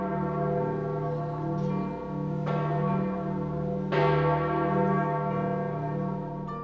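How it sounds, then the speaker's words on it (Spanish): A deep Vatican church bell tolls slowly, with three clear strikes spaced about a second and a half apart, each ringing out in a long, rich hum that overlaps the next. "Los retoques graves de una campana del Vaticano también lloraron su muerte."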